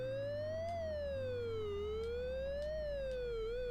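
Synthesized police car sirens from a Commodore Amiga racing game wail up and down in slow, steady sweeps, a loud continuous electronic tone over a low engine drone.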